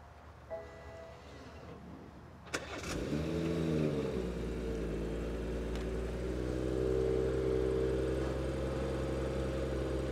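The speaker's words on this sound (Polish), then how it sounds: "Engine start." A BMW 640i Gran Turismo with a 3.0-litre engine fires up after a short click and starter whirr, then settles into a smooth, steady idle hum heard from inside the car, rising slightly later on.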